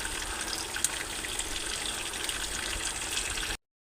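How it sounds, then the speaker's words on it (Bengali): Running water from a tap pours steadily over cut potato, pumpkin and drumsticks being rubbed clean, a continuous close splashing gush that stops abruptly at the end. "ভালো করে ঘষে ধুয়ে নিচ্ছি।"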